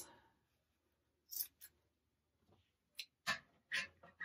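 Scissors trimming the ends of macrame cord give a handful of short, sharp, close snips in quick pairs, separated by near silence.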